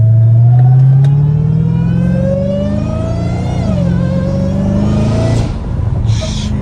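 A Dodge Hellcat Redeye with a cat-back exhaust revs loud and close, its deep engine note rising steadily, dipping, then climbing again before the throttle drops off near the end.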